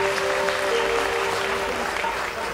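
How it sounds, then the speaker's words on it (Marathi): Audience applause at a live stage performance of a Marathi song, a steady dense wash of clapping lasting the whole moment, with a faint tonal hum running beneath. "जरा जोरदार टाळ्या आल्या तर आणखीन आवडेल आम्हाला."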